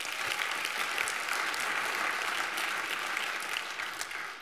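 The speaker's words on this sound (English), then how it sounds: "Clap it up again for Timmy, if you would, please." A crowd applauds steadily and loudly throughout, dense clapping with no pauses, tapering slightly at the very end.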